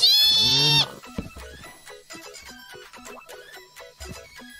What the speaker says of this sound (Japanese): もっとその豚ちゃんたちの鳴き声聞かせてくれない？